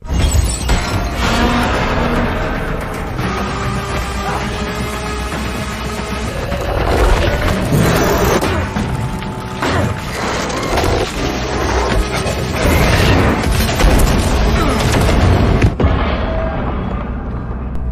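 A film scene in which leftover gasoline from a tank is doused and ignited, setting off an explosion that burns a creature: a loud, sustained roar of blasts, crashes and debris mixed with dramatic score for nearly eighteen seconds.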